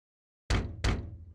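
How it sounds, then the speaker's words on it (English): Two heavy knocks on a wooden door in the detective adventure game The Great Ace Attorney Chronicles, close and loud, the pair quickly spaced after silence, with no talk. "Knock, knock."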